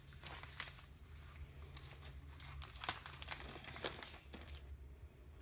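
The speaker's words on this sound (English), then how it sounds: "So let me remove this little plastic." Thin plastic film peeled off a new iPad Pro cover, faint close crinkling and crackling rustles in short irregular bursts, quiet throughout.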